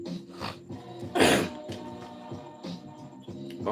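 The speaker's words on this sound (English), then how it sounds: "I just had to cough before I was drinking the water" A single harsh cough bursts out in the middle, loud and close, over a steady background of music with a low bass line and bright hiss.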